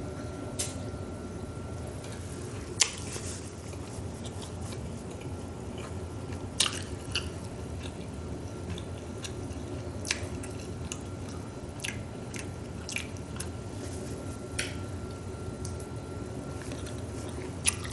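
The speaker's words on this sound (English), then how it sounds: "I'm still chewing on this octopus." Someone chews octopus with soft, wet squishing and jaw movement, broken by occasional sharp clicks and ticks, close and quiet, with no talking.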